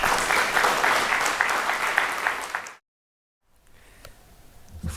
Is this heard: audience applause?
yes